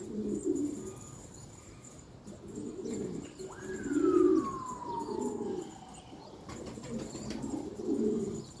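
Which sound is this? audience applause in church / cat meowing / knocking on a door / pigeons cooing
pigeons cooing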